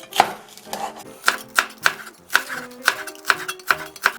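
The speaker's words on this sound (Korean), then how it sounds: "대파는 어슷 썰게 합니다." Knife chopping green onion on a cutting board, slicing it diagonally while making radish kimchi; about a dozen crisp, evenly spaced chops, close and fairly loud, with no talking.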